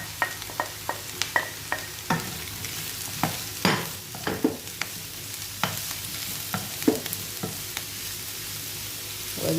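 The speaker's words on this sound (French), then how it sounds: "quand les oignons commencent à cuire comme ça, on va venir ajouter les petits légumes" Onions and small vegetables for a minced-meat vegetable lasagne sizzle and fry in a pan, with frequent clattering stirs and scrapes close by.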